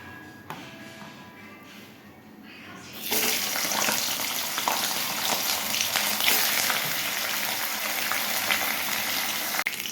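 Fish frying in a generous amount of oil. The sound is quiet at first, then a loud, continuous crackling sizzle bursts in at about three seconds and holds steady close up, with no talking.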